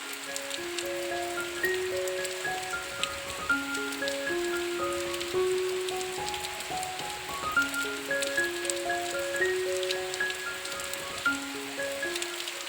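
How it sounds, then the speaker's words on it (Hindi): Rain patters steadily on surfaces in a hill village, a soft continuous hiss with scattered drops, heard beneath gentle background music. "तो अब बारिश थोड़ा कम हो गई है।"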